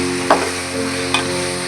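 Ginger and garlic sautéing in a pan for coconut milk rice, a steady close sizzle with a couple of brief spoon-stirring scrapes over the frying hiss.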